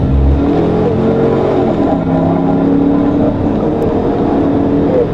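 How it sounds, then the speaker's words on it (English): An Arkansas State Police patrol car speeds along a highway during a pursuit, its engine drone loud and sustained with rising tones, mixed with road and wind noise. "We can see the other patrol car speeds ahead to catch up with the suspect."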